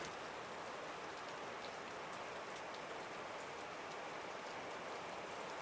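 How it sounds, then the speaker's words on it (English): Steady rain falling outside a 150-year-old farmhouse, a dense, even hiss of drops on surfaces with occasional sharper patters, soft and continuous with no voices. "I never thought I'd be so excited for rain, but we definitely need it."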